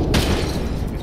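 A frag grenade explodes in the ARMA 3 military shooter: a sudden, loud, broad boom that rolls into a rumbling, noisy tail lasting about a second.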